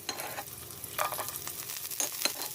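Garlic going into a pot for Ilocano beef nilaga frying and being stirred, a soft steady sizzle with scraping stir strokes recurring every second or so, close and fairly quiet with no talking.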